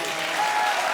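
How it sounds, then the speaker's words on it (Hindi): Audience applause on a Hindi television comedy show stage, a dense, even wash of many hands clapping filling the whole brief moment. "ताली बजा बेटी के लिए,"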